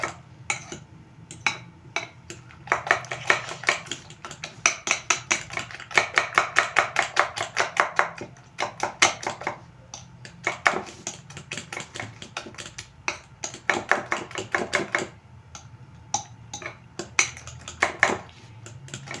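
Eggs for an omelette paratha are whisked briskly in a bowl, rapid clicking strokes coming in long rhythmic bursts with short pauses, close and clear.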